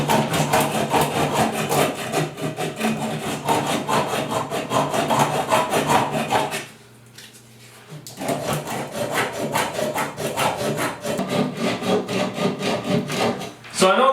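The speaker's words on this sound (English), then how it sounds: "Just use a little bit of sandpaper." Sandpaper rubs back and forth on an oxidized plumbing fitting for a bathroom sink, a close, rhythmic rasping scrape that pauses for about a second midway, then resumes.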